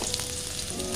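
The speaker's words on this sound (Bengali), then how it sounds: "এই যে তেল দিয়েছি, একটু দিয়ে দিব পেঁয়াজ" Chopped onion sizzles in hot oil in a pan, a dense, steady crackle and hiss heard up close with no talking.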